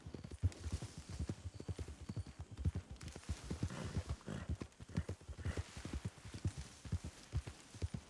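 Hooves of a horse clip-clop steadily in a western role-play video game, a dense run of quick, fairly loud thuds continuing throughout with faint background ambience.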